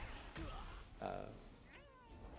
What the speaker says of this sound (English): Cat's kind of freaking out behind me.